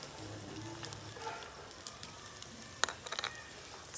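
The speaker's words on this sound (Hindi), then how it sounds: "अब मैं इसमें चॉप किया हुआ लहसुन और सब्ज़ मिर्च डाल दूंगी।" Chopped garlic and green chili fry with browned onion in a pan, giving a faint, steady sizzle with light crackles and pops and a few sharper clinks.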